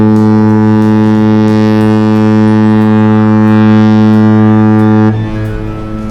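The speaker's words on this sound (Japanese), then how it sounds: "珍しくね、汽笛を鳴らして、港に入ることをね、お知らせしてくださいました。" Horn of the cruise ship Spectrum of the Seas, a 169,379-ton, 346-metre vessel entering Kobe port: a loud, steady low blast with rich harmonics holding for about five seconds before cutting off, leaving harbour ambience.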